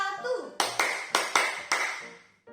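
Five quick, sharp hand claps in an uneven run during the tepuk 1, 2, 3 children's clapping game, heard close and loud right after a brief spoken voice, then a short tap at the end.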